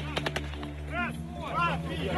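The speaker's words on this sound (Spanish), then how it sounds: "Soldados ucranianos fueron recibidos con disparos al aire en la base aérea de Belbek." Three sharp gunshots ring out early in quick succession at Belbek air base in Crimea, fired into the air as Ukrainian soldiers arrive, followed by shouting voices and a low constant hum.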